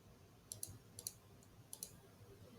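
Soft, sharp mouse clicks in a quiet room as a Notion database filter menu is opened and options are picked, arriving in small pairs and singles against faint background hiss.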